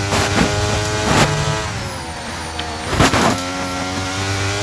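Williams Formula 1 car engine in the F1 23 video game, loud and close, revving high and climbing in pitch through upshifts, with sharp gearchange cuts between rising whines.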